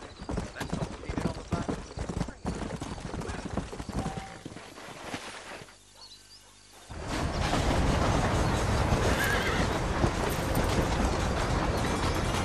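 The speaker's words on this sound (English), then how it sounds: "You ain't gonna find sturdier horses than these in all of New Ulster." Horses trot with rapid, busy clip-clopping hooves, broken briefly by a quieter pause before the hoofbeats return louder and denser, with an occasional neigh.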